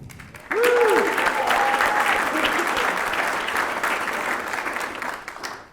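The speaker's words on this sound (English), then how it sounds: "one more round of applause for Jason" Comedy show audience giving a performer another round of applause, a loud sustained burst of clapping and cheering that swells in after a short whoop and slowly tapers off.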